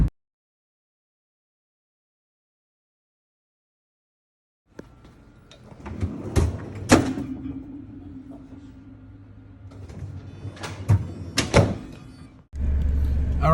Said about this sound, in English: This is a freezer door stuck closed.